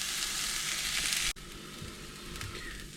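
Chopped onions and bacon frying in a pan give a steady close sizzle that drops abruptly in level partway through, then continues more softly with faint stirring.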